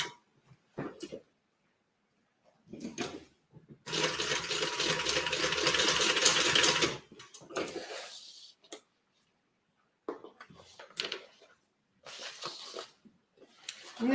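Sewing machine top-stitching leather, with a steady close whir for about three seconds between shorter bursts of handling noise and pauses of near silence.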